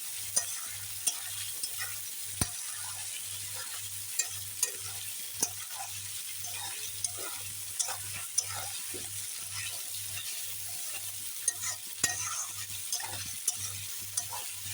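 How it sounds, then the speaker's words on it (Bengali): Steady sizzling of onions and chicken frying together in a pan for chicken curry, with a regular rhythmic scraping of a spoon stirring, fairly quiet and close. "সব কিছু একসঙ্গে ভেজে নিচ্ছি"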